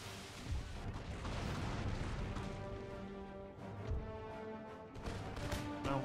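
Rockets launching on a Empire Total War battlefield, with a faint, continuous rumbling barrage of booms and crackling bursts and repeated muffled blasts rolling under a constant low din.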